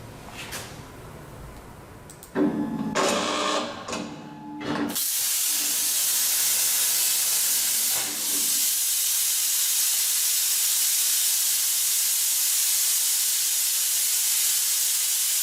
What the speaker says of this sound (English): I got my cutter on. I just put a cut path on it, and I'm going to hit cut.